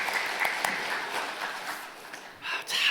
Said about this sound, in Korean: 하늘경의 박수 올려드리겠습니다.